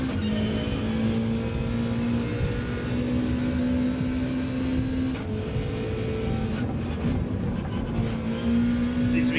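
Subaru WRX Group 3 race car lapping Tokyo Central clockwise in Gran Turismo 7, its engine droning steadily and loudly with shifting revs and no break.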